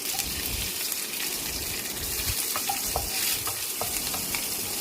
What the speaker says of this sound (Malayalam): ആദ്യം വെളിച്ചെണ്ണ ഒഴിച്ച് ഇഞ്ചി വെളുത്തുള്ളി നന്നായിട്ട് വഴറ്റുക. എന്നിട്ട് അതിലേക്ക് പച്ചമുളക്